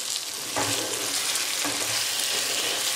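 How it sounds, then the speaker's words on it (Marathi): Spicy eggplant and dried shrimp (vang sukat) being stirred in a hot pan, a dense continuous sizzle broken by two soft scraping strokes of the spoon, without talk. "एकदा मिक्स करून घेऊया."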